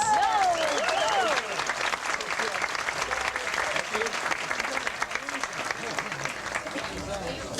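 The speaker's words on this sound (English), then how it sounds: "How about a nice round of applause for Joe Motes?" A crowd aboard the Seatrek 89 Star Trek fan cruise applauds promoter Joe Motes, a dense, loud wash of clapping that holds steady throughout with a few whoops rising over it early on.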